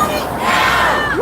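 A crowd of Yellow Vests protesters at a Colorado demonstration lets out a brief, loud, cheering shout.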